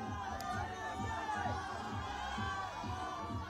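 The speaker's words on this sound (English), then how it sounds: "Hometown crowd is getting loud now," A hometown crowd cheers at an ice climbing World Cup lead final in Champagny, France, with steady loud shouting and cheering sustained throughout, mixed with scattered individual yells.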